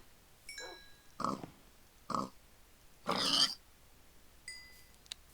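Pigs in a modded video game give four separate short grunts and oinks, spaced about a second apart, followed by a couple of faint clicks; quiet and alone, with no talking.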